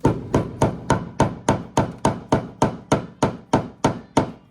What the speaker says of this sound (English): you hand me a hammer